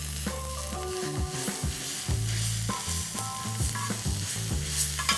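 A paste of ginger, seven garlic cloves and five green chilies sautés in a hot pan with a steady sizzle, while a spoon stirs and scrapes in repeated strokes against the metal.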